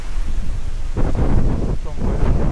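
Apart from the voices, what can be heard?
strong wind in forest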